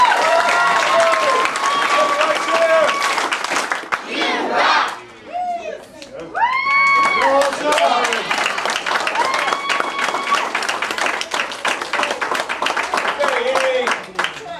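Audience applause at a martial arts belt ceremony for new green belts; clapping mixed with loud shouts, whoops and cheering voices, dipping briefly midway before the crowd noise swells again and continues.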